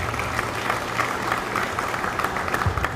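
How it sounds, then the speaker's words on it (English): A crowd applauds a military band at an outdoor change of command ceremony, with steady, dense clapping and a few louder claps poking through, no speech over it. "everybody give a round of applause to the band"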